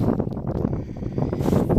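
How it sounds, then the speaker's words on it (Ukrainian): Gusty wind buffets the microphone in a loud, low, rumbling roar that swells and dips without a break. "почав вітер такий неприємний зніматися"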